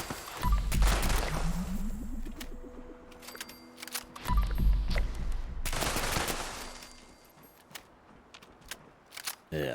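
Automatic turret gunfire in Fallout 76 rattles out in loud, dense bursts, with two heavy booming volleys and sharp scattered shots between them, plus mechanical whirring; no one speaks.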